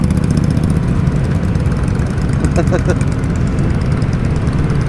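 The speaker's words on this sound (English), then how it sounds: "Everybody slowly riding, bikes behind me, bikes in front." Several motorcycles roll slowly together in a first-time parade, a steady low engine drone close by and continuous, with a brief tonal rise partway through and no speech.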